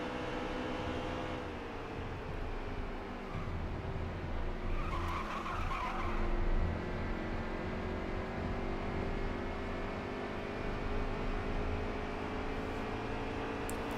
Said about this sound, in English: I like to hear those tires squealing